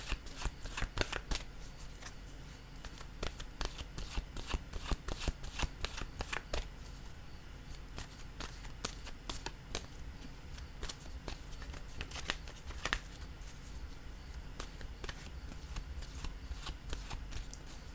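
Oracle cards from an intuitive-soul oracle deck being shuffled by hand, a steady run of crisp riffling flutters and soft slaps repeating close up for the whole stretch, with no talk.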